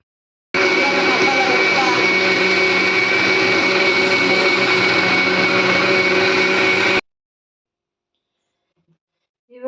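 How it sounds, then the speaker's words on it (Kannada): A mixer grinder grinds masala for fish, a loud steady whirring roar running about six seconds alone before cutting off abruptly into near silence. "ಮೀನಿಗೆ ರೆಡಿ ಮಾಡೋ ಮುಂಚೆ ಈ ಮಸಾಲೆಯನ್ನು ರುಬ್ಕೊಳ್ಳು"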